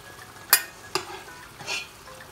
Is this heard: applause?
no